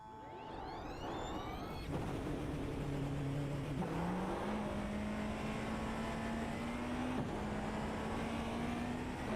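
A Porsche GT3 race car engine in a racing video game at Watkins Glen, droning loud and steady with a climbing pitch and quick upshift drops; no talking.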